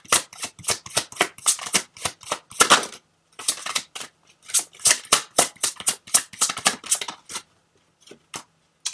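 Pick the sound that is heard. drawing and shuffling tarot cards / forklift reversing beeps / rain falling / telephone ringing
drawing and shuffling tarot cards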